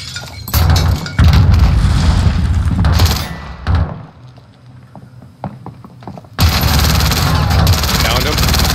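A grenade blast in a multiplayer shooter game: dense booming and gunfire-like bursts fill the opening seconds, drop to a quieter lull, then a loud roar returns, with players talking over it.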